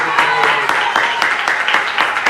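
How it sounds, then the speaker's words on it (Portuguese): Church congregation clapping in a rhythmic beat of sharp, evenly spaced claps during worship, fairly loud and close, with a sung or spoken voice line running underneath. "Vamos aplaudir com mais perseverança e com mais gosto"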